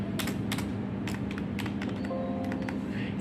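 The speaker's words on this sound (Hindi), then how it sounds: "ये एक मैकेनिकल कीबोर्ड है। तो हम इसका साउंड सुनते हैं" Rapid clicky keystrokes on a SmartBuy PK-29 LED-backlit mechanical gaming keyboard: a close, steady run of sharp taps with no one talking.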